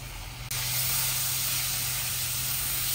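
Washed lentils for dal tipped into hot oil, bursting into a loud, even sizzling hiss after a brief quieter moment, close up and steady to the end.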